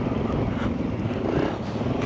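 A Honda CRF300L motorcycle engine drones steadily, low and rumbling, with no break or change in pitch.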